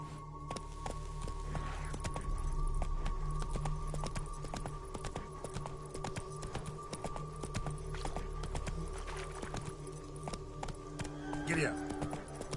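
A horse gallops in The Witcher, a rapid, continuous clip-clop of hooves alongside a low rumbling background, with a voice speaking over it.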